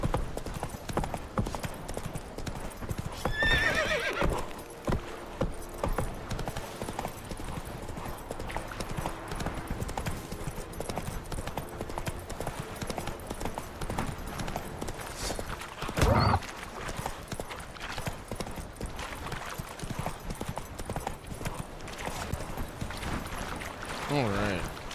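Horse galloping in The Witcher 3 video game, rapid rhythmic hoofbeats clattering steadily across the whole stretch with game ambience, a brief neigh and a player's voice speaking at moments.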